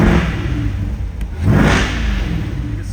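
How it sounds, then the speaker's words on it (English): A 2020 Chevrolet Corvette engine revs up with the exhaust in sport mode, swelling into a loud roaring exhaust burst, then settles back to a throaty rumble. "I'll turn on the headlights and give it a couple revs for you guys"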